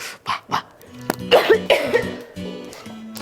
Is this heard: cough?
yes